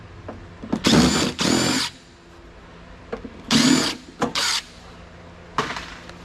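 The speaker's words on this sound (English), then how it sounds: "There's no reason to get bored watching me unscrew stuff" A cordless power drill unscrews screws from a heavy power backup unit in two-part bursts, whirring loudly up close, with quiet pauses and small clicks between them.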